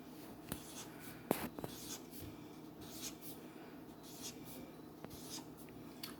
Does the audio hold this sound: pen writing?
yes